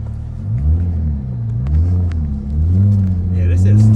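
Dodge Charger V6 engine revving, a loud close rumbling drone that rises and falls in pitch across several revs, with people talking over it.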